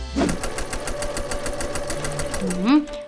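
A sewing machine stitches a child's apron with a steady, rapid, rhythmic needle chatter close by. The whirring runs continuously, and a voice briefly speaks near the start and again at the end.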